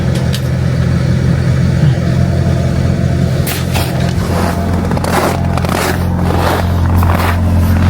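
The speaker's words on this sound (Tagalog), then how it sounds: "magpainit muna tayo ng makina." A car engine warms up at about minus 40 degrees on an Alaskan evening, a steady low idle hum with a faint rise in revs and scraping noises partway through, heard close and continuous.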